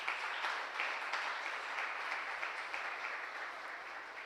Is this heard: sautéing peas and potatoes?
no